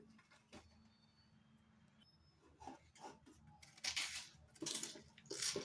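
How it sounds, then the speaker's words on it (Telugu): Cabbage being cut on a plate, heard as faint, sparse clicks and taps at first that turn into denser, louder scraping and chopping strokes toward the end, close by, with no voices. "ఇప్పుడు కట్ చేస్తున్నాను ఫ్రెండ్స్ చూడండి ప్లేట్ కూడా తీసుకున్నాను"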